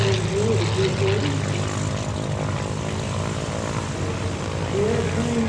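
A P-40 Warhawk propeller fighter drones past at an outdoor airshow, a steady loud engine roar with a commentator talking over it throughout.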